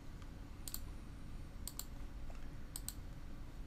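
Two or three quick pairs of sharp computer mouse clicks, close and fairly quiet, sit over a low steady room hum with no speech.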